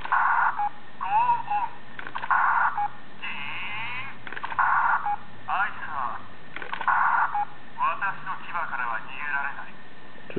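Special electronic sound effect from a DX Seiku-Oh Go-onger toy, a string of bright, tinny, chirping tones and jingles from a small speaker playing continuously at close range.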